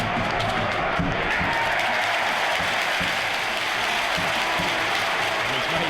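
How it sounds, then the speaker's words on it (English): A large football stadium crowd at a Leicester City versus Watford match roars and applauds a goal, a dense, steady wall of clapping and cheering filling the whole stretch. "This time Vardy controls his effort and takes the acclaim of the crowd"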